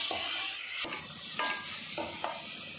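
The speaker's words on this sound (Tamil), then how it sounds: "இஞ்சி பூண்டு வாட போகிற அளவுக்கு நல்லா வதக்கி விட்டுக்கலாம்." Ginger, garlic and shallots sizzle in a hot pan as they are sautéed for chicken biryani, with a spoon stirring and scraping every second or so over a steady, close frying hiss.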